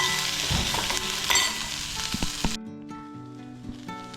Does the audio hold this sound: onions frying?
yes